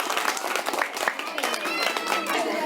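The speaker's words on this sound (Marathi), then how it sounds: "सर्व विद्यार्थ्यांचं, सहभागी विद्यार्थ्यांचं एकदा जोरदार टाळ्या वाजून स्वागत करा" School students at a Zilla Parishad primary school clap in welcome for classmates elected in a mock National Voters' Day poll, a dense, steady burst of many hands close by, with crowd murmur and voices mixed in.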